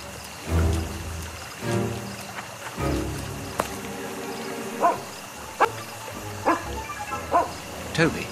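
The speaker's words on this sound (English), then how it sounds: "There's a good dog." A tracking dog in a Sherlock Holmes video game gives a series of short barks and yips, spaced irregularly over low game ambience and scattered background sounds.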